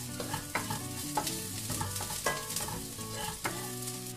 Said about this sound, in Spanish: En una sartén con una cucharada de aceite, vamos a agregar un poco de cebolla. La vamos a dejar que se sofría muy bien.